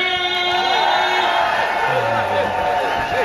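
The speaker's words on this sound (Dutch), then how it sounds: "Dus hier geef ze heel, heel groot applaus" A festival tent crowd at Oerol 2017 cheers and whoops, loud and dense, a continuous roar of shouts close by with voices rising over it.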